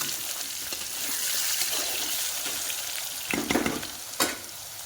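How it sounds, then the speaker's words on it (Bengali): Potato pieces frying in oil in a pan while cooking a Bengali fish curry, a steady close sizzle with a few sharper scrapes of stirring near the end. "এখন আলুটা অল্প লাল করে ভাজা হোক।"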